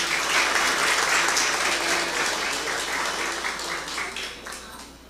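An audience at a tribute ceremony applauds the arrival of an invited vice-mayor, sustained and dense clapping that gradually fades toward the close, with no talking over it.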